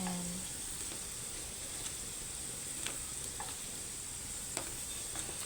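Potato pieces fry in hot oil in a pan, a faint steady sizzle with occasional light scrapes and stirring clicks, no talk.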